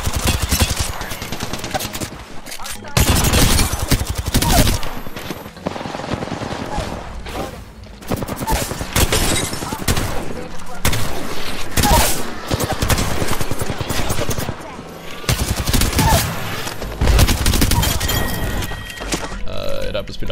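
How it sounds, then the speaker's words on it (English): Loud, close bursts of rapid automatic gunfire from bots standing still and shooting in a video game, long dense volleys separated by brief pauses, with a voice talking underneath. "These guys are bots and they're standing still and shooting."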